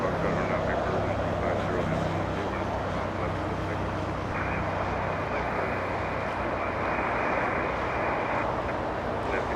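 United Boeing 737 with CFM56 engines taxiing at Los Angeles International Airport, a steady mid-level jet engine hum with a tonal whine that steps up partway through, heard under ongoing speech.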